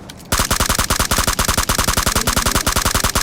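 Rapid automatic gunfire from the PUBG video game, a fast steady stream of loud, evenly spaced shots that bursts in after a brief quiet moment and runs without pause.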